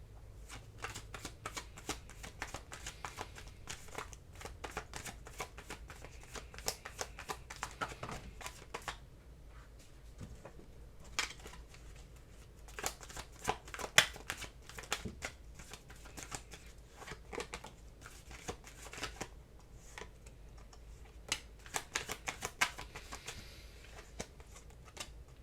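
Tarot cards shuffled by hand in a steady riffling patter of quick papery flicks, close and fairly soft, with brief pauses between bursts and no talking.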